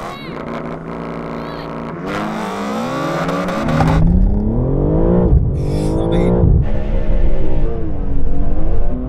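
Generations of BMW M coupes, including four-wheel-drive models, accelerate side by side in a drag race, engines roaring loud and near with rising and falling pitch through gear changes, layered over each other, while a voice talks over the run.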